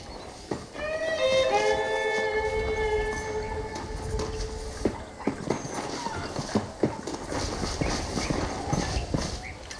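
A horse's hooves clip-clop at a steady trot in Red Dead Redemption, close and rhythmic, joined near the start by a bright musical chime and later by some heavier thuds and rattles.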